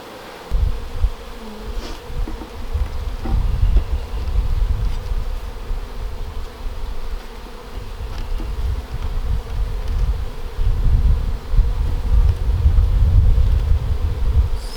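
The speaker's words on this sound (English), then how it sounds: "I can already tell that we have more bees" Honey bees buzzing loudly and continuously around an open hive during an outdoor inspection, the swarming drone swelling and fading with gusts of wind over the microphone.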